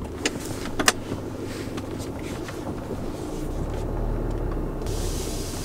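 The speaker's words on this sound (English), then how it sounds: "And here it is departing from park." Low, muffled diesel drone from inside the cab of a 2017 GMC Canyon Denali as it shifts out of park and begins to roll, a few small clicks early on and the engine hum swelling slightly toward the end.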